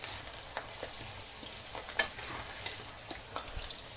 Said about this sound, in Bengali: ওই তেলেই আলু দিয়ে দিচ্ছি, আলুগুলো দিয়ে ভালো করে ভেজে নেব